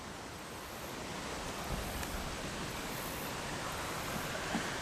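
Steady broadband rush of the White River flowing in a county park, continuous and fairly even, running nearby with no voices.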